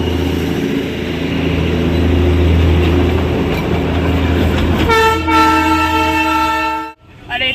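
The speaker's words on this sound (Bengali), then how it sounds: "যদিও এটা স্টিম ইঞ্জিন না, ডিজেল ইঞ্জিন।" Near Ghum station in Darjeeling, a diesel-engine train rumbles loudly past at close range for several seconds, then blasts a long, bright horn before the sound cuts off abruptly.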